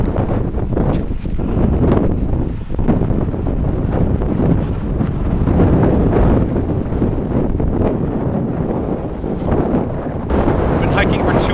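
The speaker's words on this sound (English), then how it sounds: "Sorry for the wind." Strong wind roars across the microphone on a mountain ridge beneath summit cliffs, loud, continuous and gusting throughout.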